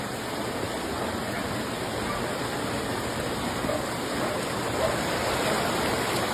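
Heavy rain pours in Bacolod City, an even, loud roar of hissing water that stays steady from start to finish.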